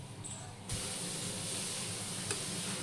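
Appe batter fries in oil in a covered pan, giving a steady, soft sizzling hiss that starts with a brief spray-like onset and continues evenly.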